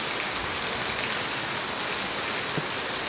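Steady rain in an animated cartoon about a crow and a sparrow, a dense even hiss of falling drops that carries on unbroken, fairly loud and with no voices.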